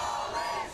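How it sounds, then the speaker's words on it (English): A protest crowd outside the Immigration and Customs Enforcement building on Ted Turner Drive in downtown Atlanta, their massed voices a steady, blended roar heard for under a second. "The crowd here on Ted Turner Drive protested just steps away from the Immigration and Customs Enforcement building in downtown Atlanta."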